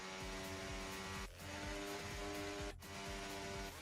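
A Williams car engine in an F1 racing video game drones steadily at high revs, with a buzzing, pulsing tone and two brief dips like gear shifts, loud and alone.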